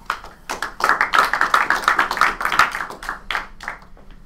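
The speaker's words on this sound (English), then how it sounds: "So let's give a big round of applause." Audience applause welcomes a startup pitch presenter: lively, close clapping from a modest crowd builds quickly, holds for a few seconds, then thins out.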